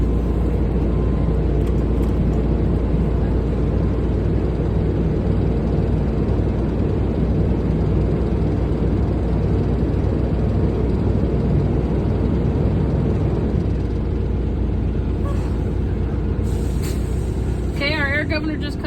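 A truck engine is held at raised throttle during an air brake test until the air governor cuts out, giving a loud, steady drone that continues throughout, with a brief hiss near the end.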